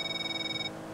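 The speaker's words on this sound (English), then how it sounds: "Wait, that's my phone." A phone rings in Grand Theft Auto V, a single steady electronic ringtone trill lasting under a second before cutting off, clear and close.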